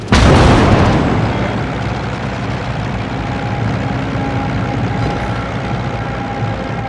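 Naval gunfire and explosions in World of Warships: a heavy, loud boom opens, followed by a sustained rumbling roar of distant shelling and battle noise that fades only slightly over several seconds.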